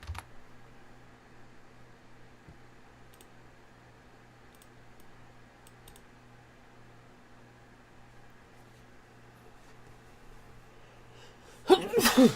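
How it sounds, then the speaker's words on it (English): Quiet room hum with faint clicks for most of the stretch, then a single sharp sneeze bursts out near the end. "I know when a sneeze is coming and I can mute myself"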